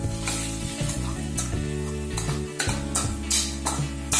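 Mashed boiled potatoes stirred into onions frying in oil for masala dosa filling, a steady sizzle under repeated scraping strokes and sharp clinks of a spoon against the pan.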